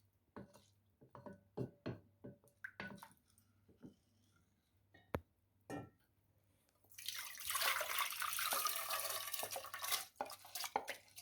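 Soaked rice being strained: scattered drips and small clinks of a pot, then a sustained rush of rice water pouring off through a strainer for a few seconds, fairly close.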